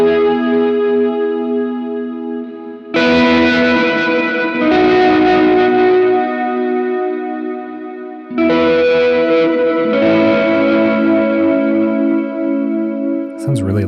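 Electric guitar played through a JHS 3 Series worship pedalboard with bright, high-EQ reverb: sustained chords ring out with a long shimmering tail, two strummed attacks swelling into a dense wash, and no voice over it.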